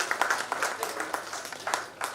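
An audience at a Marathi digital media workshop applauding to welcome a guest, steady scattered clapping from a small crowd, moderately loud and close.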